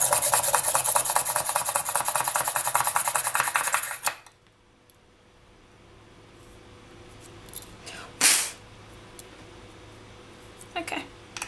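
A small hole is drilled by hand into polymer clay earrings, giving a close, continuous gritty scraping that stops abruptly partway through, followed by near quiet and a few faint handling knocks.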